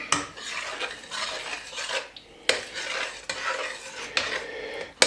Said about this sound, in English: we'll give it a bit of a stir